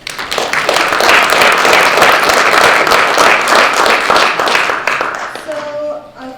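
Neighborhood association general meeting audience applauding the candidates, a dense, loud burst of many hands clapping that holds steady for several seconds, then thins out and fades as a few voices come in near the end.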